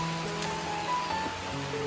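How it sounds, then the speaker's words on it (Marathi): Heavy rain falls steadily, a dense, even hiss of drops spread across the whole clip with no pauses and no voices. "जोरात आला पाऊस हा बघा"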